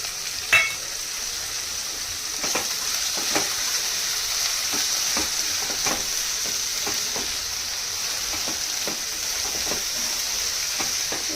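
Cashews and dried red chilies sizzle and fry in a pan, a soft steady hiss broken by scattered crackles and pops, with a clink near the start.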